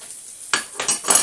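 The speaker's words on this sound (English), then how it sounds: "we'll throw that in the wok" Ingredients for Mexican rice with peas, sweet corn and pork sausage drop into a wok in two or three quick clattering hits with a brief sizzle, close by.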